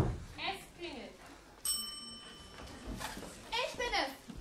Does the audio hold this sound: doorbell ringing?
yes